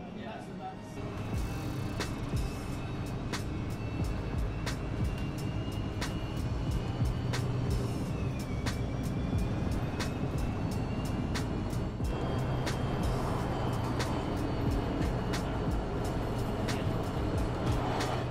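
Autonomous bus travelling on a motorway, the M90 heading toward the A904, with a steady, continuous road and engine rumble filling the cabin throughout, and faint tonal whine above it.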